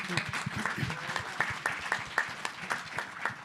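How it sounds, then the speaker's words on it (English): An audience at a cannabis expo panel discussion on psychedelics gives a round of applause. It sounds as fairly quiet, scattered clapping from a modest crowd in a room, lasting a few seconds. "So a round of applause for Gaetano."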